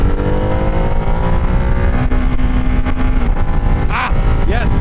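Ducati Hypermotard 698 single-cylinder motorcycle being ridden, a loud continuous engine drone with wind rush close by and a brief rising note as it shifts up, a voice briefly audible.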